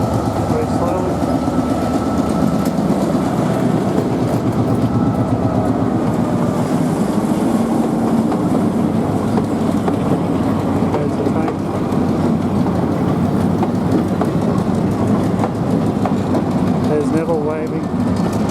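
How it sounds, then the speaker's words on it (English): A train crosses the Nine Arches Bridge in Ella, Sri Lanka, a steady rumbling roll with rhythmic rail clatter, heard at a distance under continuous crowd chatter and talk. "There's the train."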